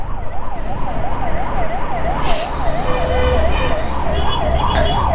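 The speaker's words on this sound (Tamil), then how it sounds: "இந்த ஆம்புலன்ஸ்காரங்க என்ன போகவே மாட்டாங்க." Ambulance siren wailing in traffic, heard from a motorcycle on the road, a loud rising-and-falling yelp repeating steadily over rumbling road and engine noise.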